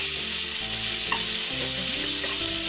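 Potatoes for a fasting dish frying in a pan with rock salt give a loud, close, continuous sizzle and crackle, with some stirring underneath and no voices.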